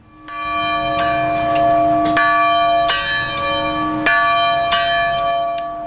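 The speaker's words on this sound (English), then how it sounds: "the bells tolled at St. Philip's Church in Uvalde" Church bells toll at St. Philip's Church in Uvalde, several strong ringing strikes spaced unevenly, each leaving a long shimmering decay, clear and alone with no voices.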